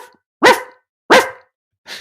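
A man imitates a dog barking with his voice, giving three loud, close, abrupt woofs spaced about half a second apart, alone with no other sound.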